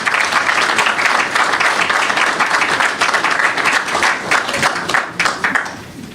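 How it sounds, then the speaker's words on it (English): An audience at a farmers' insurance scheme launch in St. Lucia applauds steadily and loudly throughout, dense clapping from a crowd that eases slightly near the end. "Give my minister a round of applause again"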